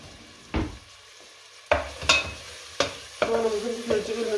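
Chopped onions fry in a pan and are stirred, giving a soft, continuous sizzle broken by several sharp scraping strokes of the spoon, close up and heard without voices.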